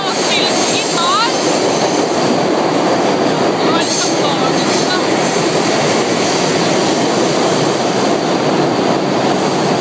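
Subway train rumbling loudly through an underground station on the New York subway at Prince Street, a dense continuous roar with rail clatter and brief wheel squeals, close and constant.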